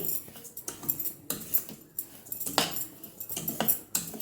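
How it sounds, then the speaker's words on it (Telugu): Semolina and sugar stirred in a pan for rava laddu, a close series of scraping taps and metallic clinks from a spoon against the pan, repeated in an irregular rhythm with no talking. "రవ్వ పంచదార బాగా మిక్స్ అయ్యేలాగా కలుపుకున్నాము"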